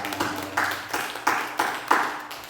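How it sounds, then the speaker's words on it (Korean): A church congregation claps in a short, rhythmic burst of about six sharp claps, moderately close, with no talking over them. "박수 한번 쳐줘"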